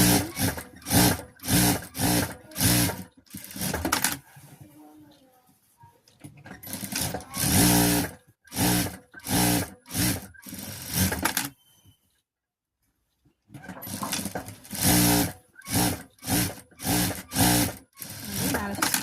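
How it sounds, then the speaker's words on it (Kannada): A sewing machine stitches a blouse in repeated rapid bursts of loud, rhythmic needle chatter, separated by short pauses and one longer stretch of near silence. "ಹೊಲಿಗೆ ಹಾಕ್ಕೊಳ್ಳೋಣ"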